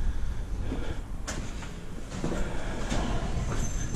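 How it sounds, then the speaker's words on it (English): Dark hallway doors thud open and shut while someone walks through a martial arts hall, with a few sharp knocks and creaks over a loud, rumbling background. "So you come through these dark doors here where there's no smoking signs"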